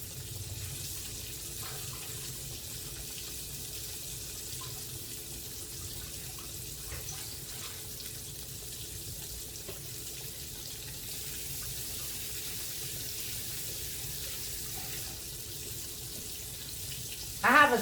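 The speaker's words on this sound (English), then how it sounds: "I have a sink over here with soapy water in it, and I was washing my hands" Water runs steadily from a kitchen tap into a sink of soapy water during hand washing, a faint, even hiss continuing for a long stretch, ending with a brief louder splash.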